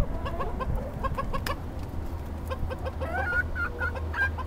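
Backyard chickens and bantams cluck and chatter close by while pecking at banana cream pie, a continuous soft flock murmur with a few higher squawks, over a low steady background hum.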